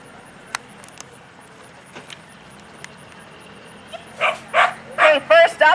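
A six-year-old black coat retriever gives a burst of loud, close barks and yips near the end after a quieter stretch, at an agility demo at a hunting and fishing show.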